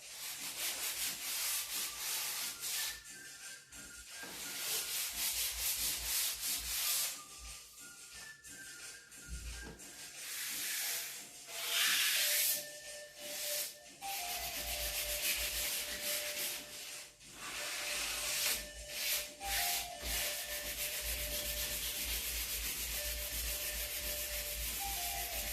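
Sandpaper rubbing a wooden doorframe in steady back-and-forth strokes, loud and close, with brief pauses between bursts of scraping.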